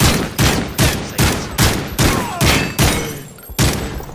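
Rapid bursts of gunfire from hip firing in a shooter video game, about ten loud sharp shots in a fairly steady rhythm, each with a short decaying tail.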